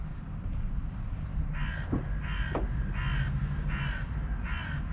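Five evenly spaced caws from a crow ring out after a quiet start, fairly close, over low outdoor rumble by a church during morning feeding.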